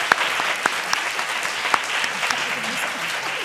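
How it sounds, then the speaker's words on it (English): Steady audience applause closes a panel discussion on the non-invasive analysis of painted surfaces, a dense, even patter of many hands with a few sharper individual claps standing out. "Let's give them a round of applause."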